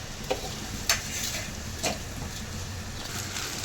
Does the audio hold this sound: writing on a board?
no